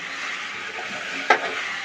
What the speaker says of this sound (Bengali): এই যে ওর বাবা নাড়ছে নাড়ু